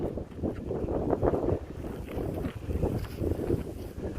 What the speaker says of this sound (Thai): โอ้เสียงลมเนี่ยเด้อครับเด้อ